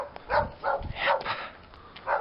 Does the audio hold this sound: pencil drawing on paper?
no